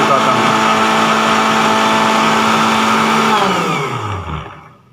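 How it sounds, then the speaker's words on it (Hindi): An electric grinder runs steadily at full speed, turning onion into paste, its loud whining motor droning evenly before spinning down and fading out at the end. "ये सामने ग्राइंडर पड़ा हुआ है, मशीन पड़ी हुई है, इसमें डाल के मैं अभी ग्राइंड करूँगा, इसका पेस्ट बनाऊँगा।"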